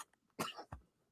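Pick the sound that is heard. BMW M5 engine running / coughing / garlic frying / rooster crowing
coughing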